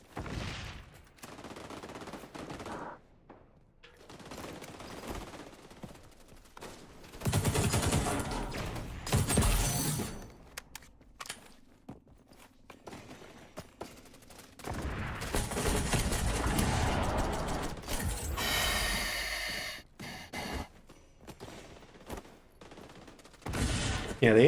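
ACR rifle fire in a video game comes in repeated automatic bursts separated by quieter gaps, loud and close, with a voice talking at times.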